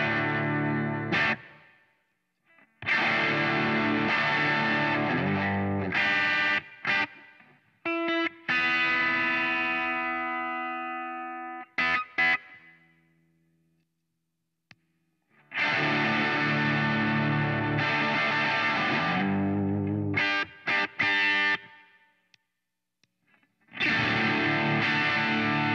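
Electric guitar tuned to drop D played through high-gain overdrive pedals: big distorted chords ring out in several loud bursts with short silent gaps between them, plus one cleaner sustained chord in the middle, with no talking.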